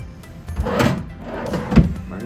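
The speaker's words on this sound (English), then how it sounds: "It's like a secret drawer or something?" A drawer built into a table in a Las Vegas Flamingo hotel room slides open and closed, with rumbling wooden scrapes and a solid thunk near the end, close up.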